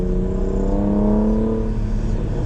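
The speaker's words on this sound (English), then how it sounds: "You can hear his muffler delete, and I think he has something else deleted" A car with a muffler delete revs loudly nearby, its raw exhaust note climbing through rising harmonic tones and then easing off over a steady road rumble, with no one talking.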